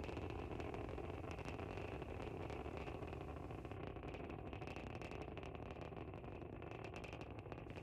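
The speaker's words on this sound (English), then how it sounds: "We can hear the characteristic rumble as the first stage heads into space." A SpaceX Falcon 9 first stage drives upward through the climb toward max Q, its engines making a loud, continuous broadband roar. The rumble stays steady and unbroken from start to finish, with no voices over it.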